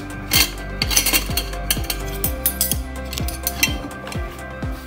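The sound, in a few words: plates and spoon being handled, cutlery clinking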